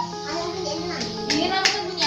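Hands clapping in a classroom during a lesson on loud and soft sounds, with several sharp claps over a noisy room and children's voices.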